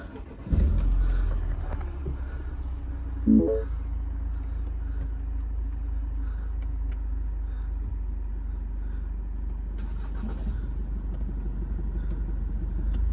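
A petrol 1.6 MINI Paceman Cooper S ALL4 starts with a short cranking burst, then settles into a steady, low, close idle rumble that runs unchanged to the end.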